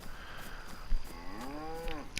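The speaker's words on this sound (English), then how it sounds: "In fact, there's two cows ahead of me." Two cows low in a DayZ game world on PS4, with a drawn-out moo rising then falling over a quiet ambient background.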